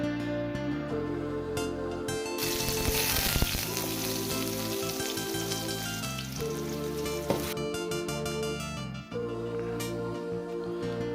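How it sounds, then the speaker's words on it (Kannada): Onion dropped into hot oil for tempering in a fish roe curry pan, a steady crackling sizzle throughout with a louder, busier burst in the middle. "ಎಣ್ಣೆ ಕಾದ್ಮೇಲೆ ಒಗ್ಗರಣೆಗೆ ಈರುಳ್ಳಿ ಕೂಡ ಹಾಕ್ಕೊಳ್ಬೇಕು"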